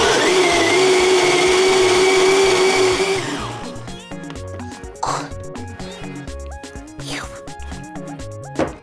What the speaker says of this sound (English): To my blender.